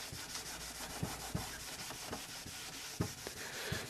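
A flexible Scotch-Brite pad scrubs an old, previously refinished wooden desk, giving a close, soft, continuous rubbing and scraping with light knocks between strokes, faint overall and without speech.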